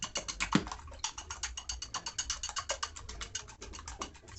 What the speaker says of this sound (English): Whisk them together.